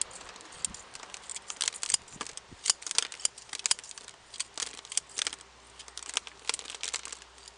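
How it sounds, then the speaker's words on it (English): Scissors snip through black pine bonsai roots during repotting, with many close, sharp clicks and small crunches scattered irregularly over a quiet background. "So cut the necessary roots, 2 long ones like this."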